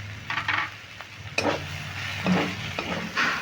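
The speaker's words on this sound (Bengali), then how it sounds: "চিনিটা দিয়ে নেড়ে নিলাম" A spoon stirs kudri posto, ivy gourd cooked with poppy seed paste, in a pan just after sugar goes in, giving a few scraping strokes over a soft sizzle.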